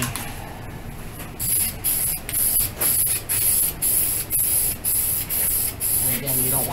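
Spray gun laying a first coat of paint on a Toyota Camry or Chevy Prizm bumper: about ten short, loud hissing bursts in a steady rhythm, each lasting roughly half a second with brief gaps between, close to the microphone.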